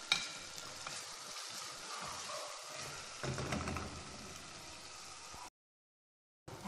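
Chopped onion frying in a hot pan for a cauliflower dish, a steady close sizzle and crackle that briefly intensifies, then cuts to silence.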